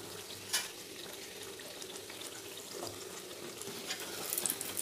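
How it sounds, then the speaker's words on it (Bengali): Deep-fried pea-filled kachoris lifted from hot oil with a metal strainer, with a faint, steady bubbling sizzle and a few soft clinks of the strainer, close but quiet. "ছাঁকনির সাহায্যে তুলে নেবো। ছাঁকনিটা শোনাবো।"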